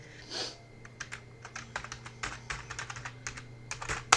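Fingers tap out a password on a computer keyboard, a steady run of quick, close key clicks over a low constant hum, fairly quiet throughout.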